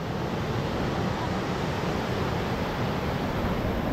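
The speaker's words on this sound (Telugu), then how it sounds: "వాటర్ ఫాల్స్ ఫోర్స్ అయితే హెవీగా వస్తుంది" Waterfall in Munnar pouring down with heavy force, a loud, constant roaring rush of water heard close up and unbroken throughout, with no talking.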